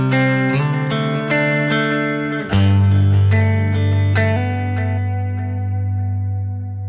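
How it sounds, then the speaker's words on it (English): Electric guitar through a Line 6 Helix patch modelled on a vintage 1965 Fender Deluxe Reverb Prince amp, with a dotted-eighth delay quietly echoing under ringing chords and picked notes, played alone and sustained. "Okay, the dotted eighth is not terribly prominent."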